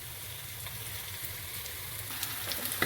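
Ginger garlic paste and shallots sauté in a hot pan for a quail egg masala, giving a steady, moderately quiet sizzle with faint crackles building toward the end, close by and without voices.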